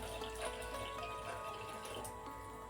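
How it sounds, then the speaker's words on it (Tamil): Water poured from a tumbler into a pot of vegetable chapati kurma, a steady liquid splash and trickle heard close and alone without talk. "இப்போ நான் 1 டம்ளர் தண்ணி ஊற்றிக்கிறேன்"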